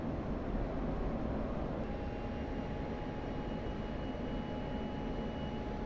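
Steady broadband engine roar of an aircraft on approach to land in the DCS World flight simulator, a continuous loud drone with a faint whine, no talk.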